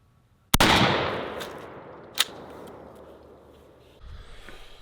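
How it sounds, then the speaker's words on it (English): A 20 gauge and a 12 gauge shotgun, the latter a 1300 model, fire outdoors. One sharp, loud blast rings out with a long fading tail, followed by a smaller crack and quieter handling noise. "So we shot 20 gauge, and Dad come by and shot his 12 gauge 1300"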